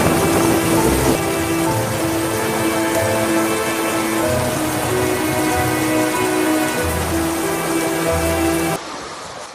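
Steady heavy rain with a dense, continuous hiss, and low rumbles of thunder rolling underneath during a flash-flood storm in Muhayil, Asir, Saudi Arabia; the sound drops abruptly near the end.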